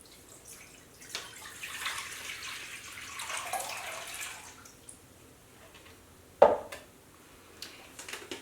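Cold water runs and trickles for German potato dumplings, a soft steady splash building over several seconds before easing off, then one sharp close knock or clunk near the end.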